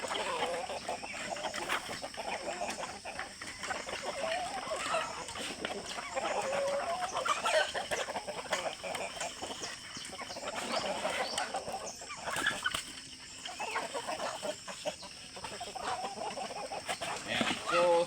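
Poultry chickens peck and eat feed in a farm pen, with clucking and occasional crowing mixed with rustling and pecking noises, a continuous busy farmyard bed at moderate distance.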